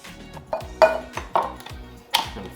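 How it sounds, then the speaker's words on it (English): A knife chops black olives on a cutting board with four sharp, irregular knocks close up. No one talks. "the most annoying part to cut up, black olives"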